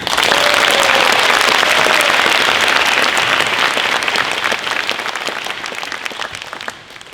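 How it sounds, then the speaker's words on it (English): An audience applauds steadily, a dense wash of clapping hands that holds strong before gradually thinning and fading toward the end. "give them a warm round of applause"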